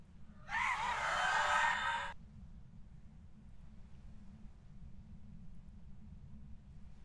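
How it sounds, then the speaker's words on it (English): A Banshee ghost in the video game Phasmophobia lets out a single breathy, wailing scream lasting about a second and a half, then fades to a low rumbling hum that continues alone. "I'm saying that's a Banshee scream"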